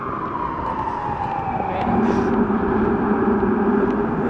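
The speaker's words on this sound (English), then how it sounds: "those like woofers sound so cool in the cop cars" A police car siren's low woofer tone sweeps downward and reverberates off tall buildings in Times Square, loud and close, over a dense rumble of city traffic.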